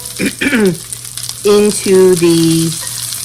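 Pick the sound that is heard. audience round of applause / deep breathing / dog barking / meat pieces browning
meat pieces browning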